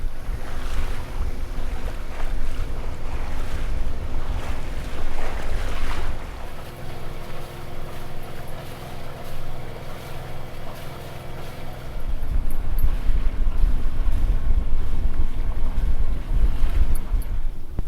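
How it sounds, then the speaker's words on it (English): A sailboat under way in a breeze of nearly 12 knots off Scotland, heading toward the Isle of Arran: steady wind noise and rushing water hiss continuously throughout, with a low droning hum in the middle stretch. "So we are well and truly on our way now, and we got a bit of a breeze."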